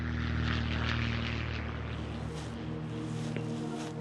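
A propeller airplane's engine drones steadily and fairly close, its low, even hum holding for the whole stretch with no voices.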